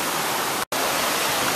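Waterfall in the Columbia River Gorge, a dense, steady roar of falling water close by, broken by one brief cut to silence before the rush resumes.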